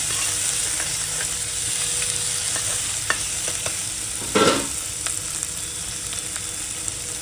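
Finely chopped onion frying in a pan for village-style mutton, a constant loud sizzle with occasional spoon scrapes and one brief louder stir, no talking.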